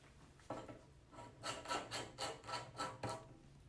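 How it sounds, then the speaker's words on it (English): Wrench tightening the screwed-in wheel locks on a grow-out pen, giving a quiet, close series of rhythmic rasping, grinding turns that repeat about six times in a steady pattern, with no voices. "you can take a wrench to make them even tighter"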